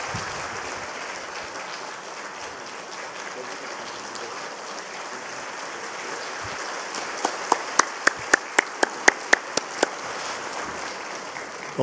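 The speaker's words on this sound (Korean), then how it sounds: "우리 뜨거운 박수로 축하하면서 확장 후원금 전해드리도록 하겠습니다" Warm congregational applause at a Sunday church service runs as a steady wash of clapping, with a short string of sharp, loud claps or taps standing out near the end.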